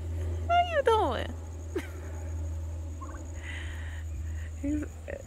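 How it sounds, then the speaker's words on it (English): A turkey gobbles loudly nearby in a rapid descending warbling burst, followed by quieter clucks and rustling over a steady low hum on a garden farm. "we have a turkey too"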